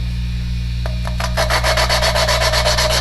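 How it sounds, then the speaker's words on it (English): Rhythmic back-and-forth grinding rasps of an engine valve being lapped against its seat on a Farmall M tractor, a few slow strokes then a rapid steady rubbing over a low hum. "If I were lapping a valve that was pretty rough, or a seat that was rough, I would go longer."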